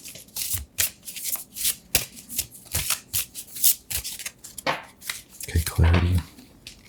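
Tarot cards being shuffled by hand in quick crisp riffling bursts, a rapid run of close papery flicks and snaps with brief gaps between them.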